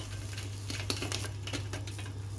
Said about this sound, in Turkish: Biberlerimi bir tarafta közlüyorum